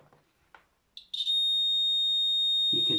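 A small electric buzzer in a simple classroom circuit sounds once a metal screw bridges the gap, a sharp, steady high-pitched tone that starts abruptly after a few clicks and holds loud and unbroken to the end.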